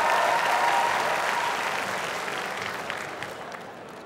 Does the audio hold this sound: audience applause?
yes